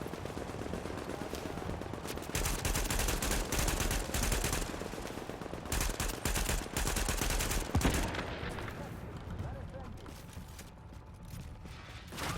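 Turret gunfire in The Division: loud, rapid bursts of automatic fire crackling over a dense, rumbling mix of shots and impacts, easing into quieter scattered sounds toward the end, with no talking.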